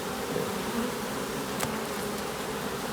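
Honeybees at a hive in spring make a dense, steady buzzing hum, close and continuous with brief louder passes, no talking.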